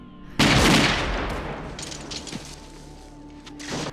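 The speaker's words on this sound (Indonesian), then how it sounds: "ia terkena tembakan telak" A war film scene opens with a loud, close burst of gunfire that echoes and decays into a rumbling tail, followed by scattered quieter impacts and a few more distant shots.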